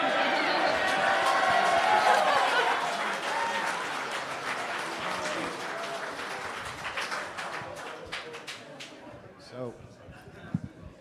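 A debate watch party crowd breaks into loud applause that gradually thins into scattered claps and chatter. Voices carry on beneath it as the clapping dies away.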